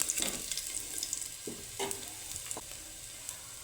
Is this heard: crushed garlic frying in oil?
yes